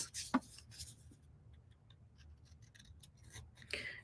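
Scissors snipping paper stars for a patriotic shadowbox craft, a few quick close crisp cuts with light rustling in between, faint and with no talk.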